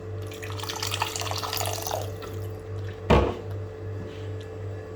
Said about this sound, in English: If this seems thick, we can add some more water.